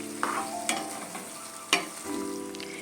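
Chicken fry cooking in a pan, stirred with a few sharp scraping strokes over a steady low sizzle, loud and close with no voices.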